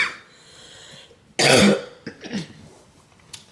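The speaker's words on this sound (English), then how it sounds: "I'm seriously sick of this little cough." A person's short, rough cough bursts out once loudly after a quiet stretch, followed by a few softer throat-clearing sounds and breaths.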